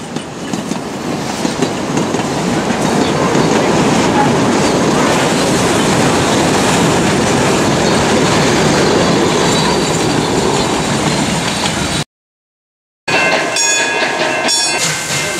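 The Puffing Billy steam train rolls past close by at Emerald Lake Park, Melbourne, with loud rumbling and clattering wheels that swell and hold, then a brief silence, then metallic squeals and clanks.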